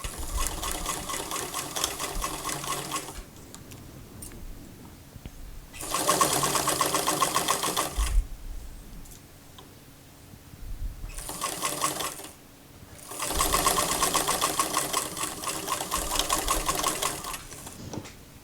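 A sewing machine stitches elastic onto knit fabric for a Simplicity 8874 dress. It runs in three bursts of fast, even whirring clatter, each a few seconds long, separated by quiet pauses, with no talk.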